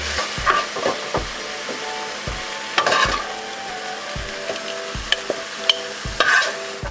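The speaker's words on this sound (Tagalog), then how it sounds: "Kaya ginigisa po natin itong ating broccoli" Broccoli sautés in a hot pan, a soft steady sizzle broken by repeated scraping and knocking of a utensil stirring the florets, close and without speech.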